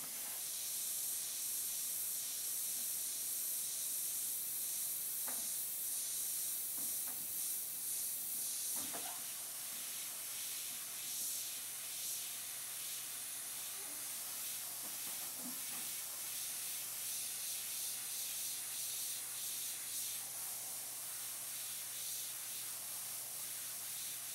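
An airbrush sprays paint for painting an eye, giving a steady, soft hiss that runs continuously with a few faint clicks and taps in the background.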